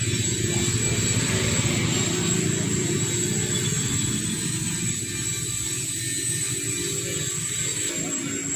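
A Shakti 10 HP engine with an aluminium body runs on a Sanedo mini tractor, a loud, steady mechanical drone that holds unbroken without pause from start to finish.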